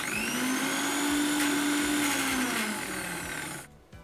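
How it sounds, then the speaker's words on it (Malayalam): A blender whips homemade mayonnaise with extra oil added, a steady loud motor whir holding one pitch for over three seconds, dipping slightly in tone as the mixture thickens, then cutting off abruptly. "ഇതിലേക്ക് കുറച്ചുകൂടി എണ്ണ ഒഴിച്ച് ഒന്നുകൂടി അടിച്ചെടുക്കാം."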